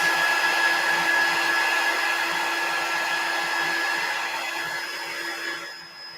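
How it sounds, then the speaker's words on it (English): A heat tool blows a steady, loud rush of hot air over chalk paste on a fall tier-tray cutout, holding constant with a faint tonal whine before easing off near the end. "Use my heat tool"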